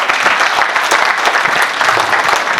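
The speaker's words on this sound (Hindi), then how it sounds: "तो जोरदार तालियां सर के लिए" An audience claps loudly and continuously in a college hall at a Hindi comedy poetry gathering, a dense sustained burst of applause with no speech over it.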